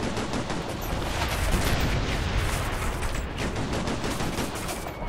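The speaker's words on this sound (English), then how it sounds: "I'm under fire!" Heavy gunfire roars without a break in the video game Operation Flashpoint: Red River, dense overlapping shots forming a loud, sustained barrage close by, with no clear speech.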